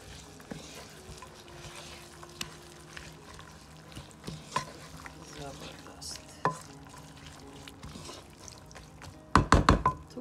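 Home-grown radish pods frying in spices in a pan, with soft sizzling under scattered knocks and scrapes of a spoon stirring, ending in a quick burst of loud clattering strokes.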